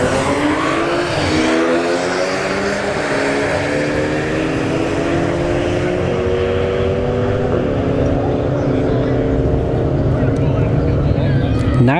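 Audi RS5 and Volkswagen Golf GTI launching side by side down a drag strip at Bradenton Motorsports Park, engines roaring loudly with rising, gear-stepped whines that climb, drop and climb again as they accelerate away.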